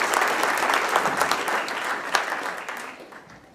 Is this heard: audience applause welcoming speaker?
yes